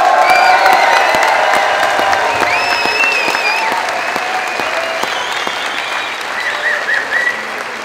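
A crowd at a Lausanne kickboxing event applauds American boxer Coppey, loud sustained clapping mixed with cheers, whoops and whistles that gradually taper.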